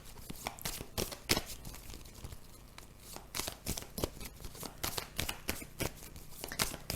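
Rainbow oracle cards being shuffled by hand, a steady run of crisp riffling and slapping bursts close by, with no voices.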